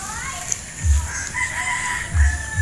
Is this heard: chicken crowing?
yes